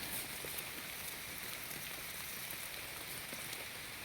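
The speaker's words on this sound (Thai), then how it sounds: "ฝนตกใส่พี่น้อง" Rain falls steadily as a dense, even hiss of drops on surfaces, continuous and moderately quiet throughout.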